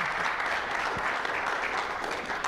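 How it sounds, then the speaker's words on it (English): A dense, steady round of audience applause fills the room after a museum talk about a Vietnam War exhibition, loud and continuous with no break or voice over it. "let's give Marci Reaven a round of applause for that fantastic talk"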